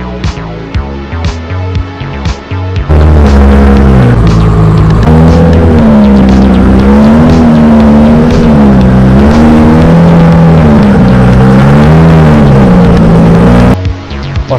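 Exotic car engine driving, a loud, sustained engine drone with wavering pitch as it revs and settles for about eleven seconds, bracketed by quieter stretches with sharp clicks at start and end.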